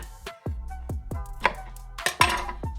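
A knife chops through eggplant on a cutting board, cutting it into thick French fry strips, with about eight sharp, ringing thuds at an uneven pace, close and clear without talk.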